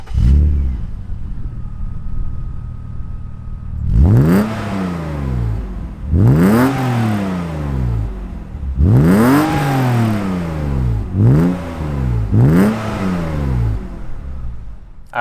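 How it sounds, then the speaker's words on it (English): A 1997 BMW E36 M3 engine idles, then revs hard five times in rising and falling sweeps, loud and close, with the idle returning between revs. "Let's go ahead and fire it up and hear what this M3 sounds like."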